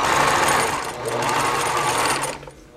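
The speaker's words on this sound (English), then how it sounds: "just baste right down the center of your ribbon" A sewing machine runs a steady basting stitch down the center of a ribbon for a burp cloth, its motor whirring continuously and close, with a brief slowdown midway before stopping near the end.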